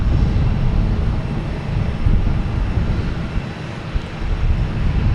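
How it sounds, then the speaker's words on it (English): An American Airlines Embraer E-175 jet arriving at Boston Logan, a steady, loud broadband engine roar with low rumble that stays fairly constant throughout, with no voices. "We have an American Airlines coming in from Chicago in E-175."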